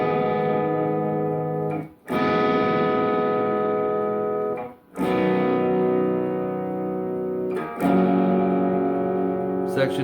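Electric guitar chords ring out loud and sustained, three long strummed chords, each left to decay before the next strum, with no voice over them.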